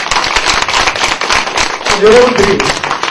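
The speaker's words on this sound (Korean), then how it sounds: "박수! 박수 한번 쳐주세요" A lecture audience claps together at a talk on saju and health rhythms, a dense burst of close, sharp hand claps running steadily throughout, with a raised voice briefly calling out over the clapping.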